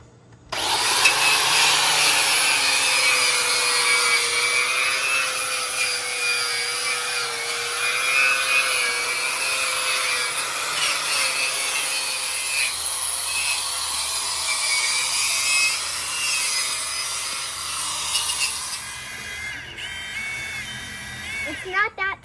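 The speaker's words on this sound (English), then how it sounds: "I'm just going to get back to using the grinder and cleaning up some metal." An angle grinder cleans up metal on an aluminum boat trailer, a loud, steady high-pitched grinding whine running continuously up close before cutting off near the end.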